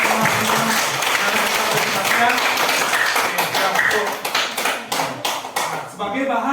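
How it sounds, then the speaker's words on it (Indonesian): Elementary school children clap together in a classroom, an uneven patter of many small hands that thins out and grows more scattered toward the end, with a voice talking partly over it. "Oke, anak-anak tepuk tangan untuk kita semua dulu teman-teman."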